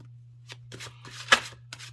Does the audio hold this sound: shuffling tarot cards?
yes